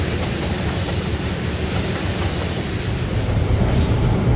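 A high-priority intermodal freight train rolls along in the railroad video game Rails of Highland Valley, giving a loud continuous rumble with hiss and wheel clatter, alone without talking.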